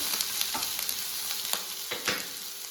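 Long-sliced onions sizzle steadily in a hot pan, close and even, with soft scraping taps as they are stirred and no voices.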